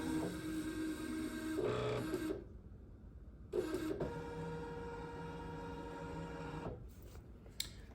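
An embroidery machine stitches fringes in fast, even mechanical bursts, running for a couple of seconds, pausing briefly, then resuming in a longer steady run before stopping, with no talking.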